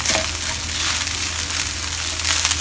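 Rice and shrimp fry in a hot pan with egg, giving a steady close sizzle and crackle with scraping stir sounds throughout and no talking.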